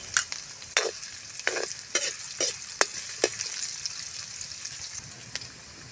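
Sliced onion is stirred into hot oil with golden-brown garlic and sizzles continuously up close. Rhythmic spatula scrapes repeat about every half second, with no talk.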